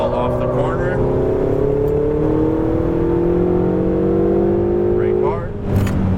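A Ferrari 488 GTB accelerates hard out of a track corner, its engine droning loud and steady with rising pitch from inside the car, briefly easing near the end, with a coaching voice talking under it.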